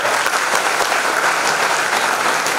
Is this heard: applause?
yes